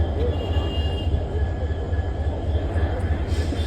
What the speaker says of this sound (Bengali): এই ট্রেনটা এখন ছাড়বে